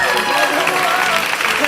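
An audience at the Miss Teenage Canada 2023 pageant applauds the contestants with dense, continuous clapping and crowd noise, loud and close throughout.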